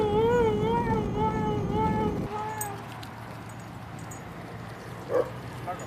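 A husky at a farm stay gives a long, wavering howl-like call that fades out midway, followed by quiet background with a faint brief sound near the end.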